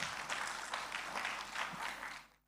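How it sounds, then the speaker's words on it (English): Distant, soft applause from the audience at a graduation ceremony, a brief steady wash of clapping that quickly fades out. "another round of applause."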